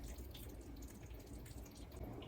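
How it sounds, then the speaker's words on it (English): Broth splashes and trickles steadily as it is poured over fish in a pot of fish stew cooked in white wine, a faint continuous liquid pour heard close up without talk. "So we will be pouring this broth over the fish, like that."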